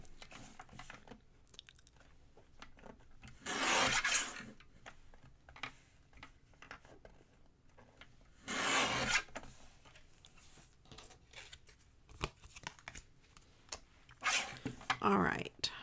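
Scissors snip through a paper sentiment for a handmade card, a few crisp cutting bursts spaced several seconds apart with soft ticking handling sounds between them.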